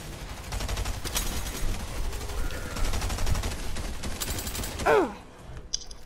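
A roleplay shooter game with a rapid, crackling volley of gunshots over clanking, mechanical background noise. A sharp whine rises near the end before the sound drops away.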